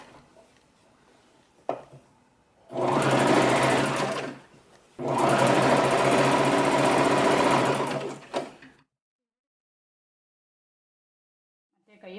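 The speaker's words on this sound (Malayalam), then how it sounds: "ഇതിൻ്റെ ഇങ്ങേ ഭാഗം ഇങ്ങനെ തയ്ച്ച് കൊടുക്കണം." An electric sewing machine runs in two long, steady bursts of fast, whirring stitching on a salwar top, with a short pause between them and a few faint clicks before and after.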